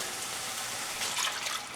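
Water poured into a hot pan of frying taco meat, a soft rushing hiss and splash that rises briefly in the middle and stays faint, with no voices.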